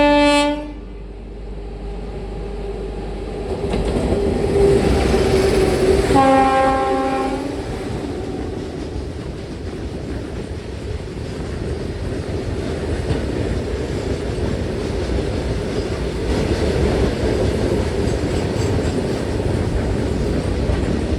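A passenger express waits at a small station on a single-line route while another train crosses, opening with a loud horn blast, then a second horn, followed by the steady rumble and clatter of the passing train.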